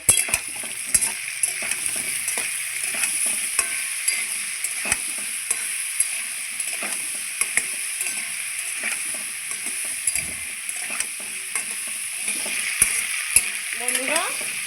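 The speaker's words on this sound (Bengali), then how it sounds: "আমি এদিকে লবণ হলুদ দিয়ে আলুটা আবারও ভালো করে ভেজে নিচ্ছি" Potatoes frying in a pan with salt and turmeric, a bright steady sizzle interrupted by regular clinks and scrapes from a spatula stirring, close and moderately loud, with a short squeaky sound near the end.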